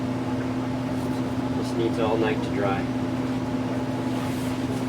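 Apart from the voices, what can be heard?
furnace running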